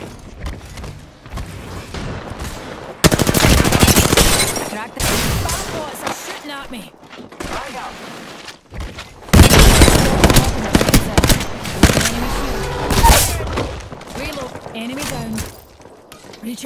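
Bursts of rapid video game gunfire in Apex Legends, loud rattling volleys in two main stretches with quieter gaps between, character voices speaking over parts of it.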